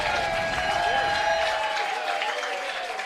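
Crowd at a CCL baseball game, Sonoma Stompers at Healdsburg Prune Packers, applauding a catch near the dugout; steady, full clapping and cheering fills the whole stretch, close and sustained with a few tonal whistles above.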